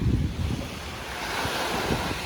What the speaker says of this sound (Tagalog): malakas ang hangin, malakas ang alon